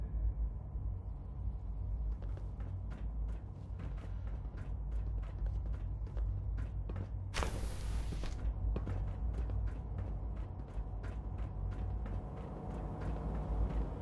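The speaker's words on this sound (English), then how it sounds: "Just need to tighten up this primary drive servo." A robot's primary drive servo is tightened in a video game, a steady run of ratcheting clicks over a low mechanical rumble, broken midway by a brief hiss, close and continuous.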